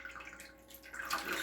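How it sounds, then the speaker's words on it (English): Water is poured into a pot of potatoes, a short splashing gush that swells toward the end, heard alone without voices. "I'll just pour the water in"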